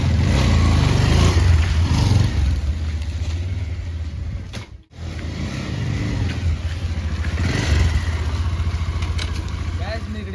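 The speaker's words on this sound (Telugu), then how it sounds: "సో గాయస్ ఇదనమాట ఎగ్జాస్ట్ సౌండ్." Bajaj Pulsar 220F motorcycle, a 2021 model, idling loudly close by with a steady throbbing exhaust note that drops out briefly and then revs back up, the engine dominating throughout.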